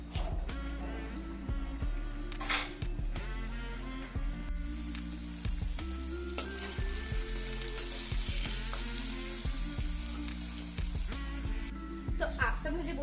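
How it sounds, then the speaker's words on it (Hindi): Cut vegetables fry in a pan with a steady crackling sizzle, close and moderately loud. Occasional stirring clinks and a faint background hum run under it, with no clear talk. "अभी इसको मैं फ्राई करूँगी।"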